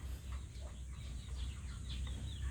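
Native chickens clucking in a backyard, several soft, scattered clucks at a moderate distance over a steady low background rumble.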